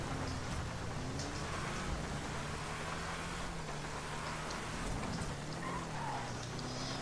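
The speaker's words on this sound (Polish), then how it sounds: "Szkoda, że pada w ogóle." Steady rain falls in the GTA 5 video game, a constant soft hiss with a low rumbling undertone, continuous and unbroken with no voices.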